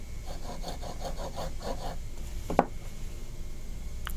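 A curved-tip hand engraving graver is sharpened on a steep-set heel, giving a quick run of rhythmic rasping strokes, then a single sharp click and a quieter stretch.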